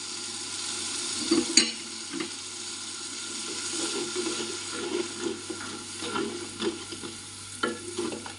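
Yogurt curry made without coconut cooks in a pan on a low flame as a bowl of yogurt is added. Soft sizzling and stirring run with scattered utensil clinks, quiet and close, without talk.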